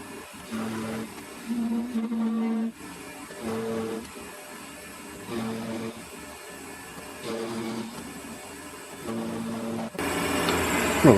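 Metal lathe turning down a replacement Z-axis leadscrew part, a steady mechanical whir with cutting noise that rises and falls in repeated bursts of roughly a second or two, fairly close and moderately loud, with no talk.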